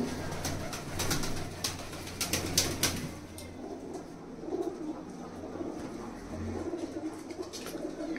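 Pigeons coo repeatedly at close range, layered soft throaty calls with a few wing flaps, strongest in the first few seconds then continuing more quietly.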